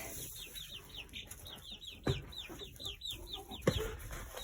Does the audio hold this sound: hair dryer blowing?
no